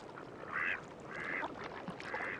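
A mallard duck quacks three times in an even rhythm, nasal and fairly close, over a soft outdoor marsh background.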